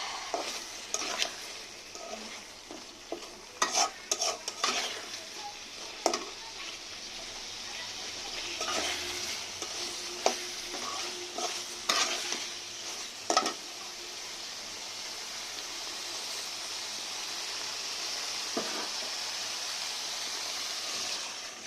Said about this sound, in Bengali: এই যে আজকে হইলো আমি ডিম দিয়ে আলু দিয়ে রান্না করতেছি।